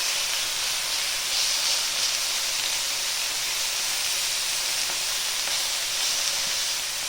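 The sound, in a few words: raw chicken sizzling in a hot oiled pan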